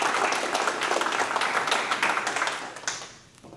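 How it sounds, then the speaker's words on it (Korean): An audience at a boxing safety seminar claps to welcome a dentist and ring doctor to the podium; moderate, fairly close applause with a few distinct claps that tapers off and fades near the end. "박수로 맞으십시오."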